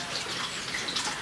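Archerfish spitting jets of water at prey, a continuous wet splashing and dripping with brief bright spatters, close and fairly steady throughout.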